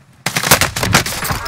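Loud, close automatic gunfire in a shooter video game bursts in abruptly after a brief quiet moment, a rapid stuttering volley of shots that keeps going to the end.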